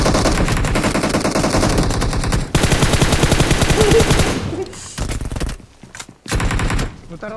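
Rapid automatic gunfire in PUBG Mobile, dense loud bursts for several seconds, then broken into shorter bursts separated by brief gaps, with a little background chatter.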